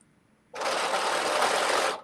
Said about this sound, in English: Just a little holding it taut, going through the sewing machine.